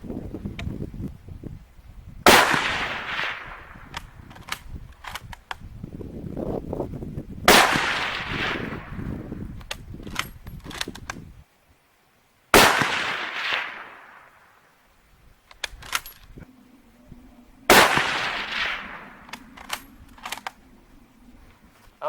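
Four 8mm Mauser rifle shots fired at jugs set out at 245 yards ring out about five seconds apart, each a loud, sharp crack that rolls into a long fading echo. No voices.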